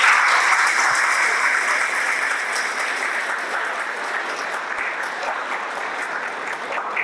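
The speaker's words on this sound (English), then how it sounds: "Can we have a huge round of applause for Murli sir?" A school valedictory ceremony audience claps for a physics teacher, a dense, sustained round of applause that stays loud and even throughout before thinning slightly toward the end.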